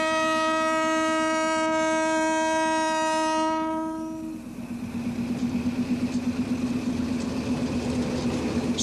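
A small train climbing through the Sri Lanka highlands sounds a long, loud horn blast for about four seconds, then its wheels and carriages rumble with a steady, rhythmic clatter close by.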